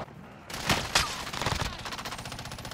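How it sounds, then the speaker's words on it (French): Automatic gunfire rattles through a Call of Duty Warzone match, with a few loud single shots giving way to rapid, steady bursts of fire at moderate distance. "Il tire sur un mec."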